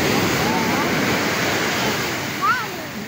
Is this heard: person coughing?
no